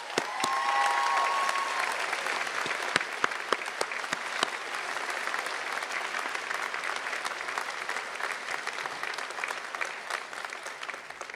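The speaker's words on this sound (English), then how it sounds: "let's honor them, truly honor them with a round of applause" Applause from a crowd at a university public affairs commencement ceremony, a sustained wash of many hands clapping, fairly even and moderately distant, with sharper individual claps standing out throughout.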